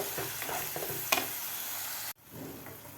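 Masala fries in oil while being stirred, a quiet close sizzle with light scraping strokes and one sharp clink, cutting off briefly before the sizzle returns.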